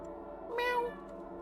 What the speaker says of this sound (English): Meow. A cat?